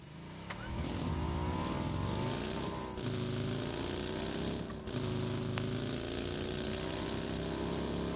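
Buggy engine in PUBG on PS4, a steady droning motor with rising and falling pitch as it drives and revs, held loud and close throughout.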